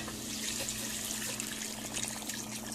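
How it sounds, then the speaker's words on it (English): Soup broth and water are poured into a hot pot while making Liberian cassava leaf, a continuous splashing, gurgling flow heard close and fairly loud throughout, with a low steady hum beneath. "So right now I'm gonna add the soup broth in here, and then a little bit of water in here."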